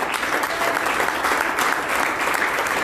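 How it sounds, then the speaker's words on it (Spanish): A church congregation breaks into full, even applause, a dense wash of clapping that holds steady throughout. "Vamos, un aplauso al Señor."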